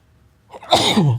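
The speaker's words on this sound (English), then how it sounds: "Sorry, I'm about to sneeze." A single loud, close sneeze after a moment of quiet, with a sharp breathy burst trailing off into a vocal tail.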